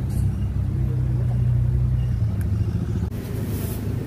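Dense rush-hour traffic jam on a Jakarta road slowed by a checkpoint, a steady close rumble of idling and creeping car and motorbike engines.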